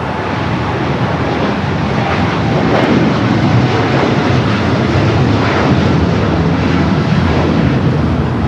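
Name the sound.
American Airlines Dreamliner taking off for London Heathrow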